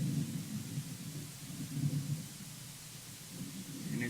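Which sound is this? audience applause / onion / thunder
thunder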